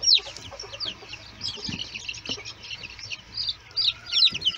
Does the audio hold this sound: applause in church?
no